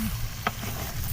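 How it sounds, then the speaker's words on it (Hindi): Capsicum and potatoes frying in a pan while being stirred: a steady sizzle with a single brief scrape of the spoon, close and moderately loud. "इसी के अंदर हमने शिमला मिर्च ऐड कर दी। इसको अच्छे से हमने हिलाना है।"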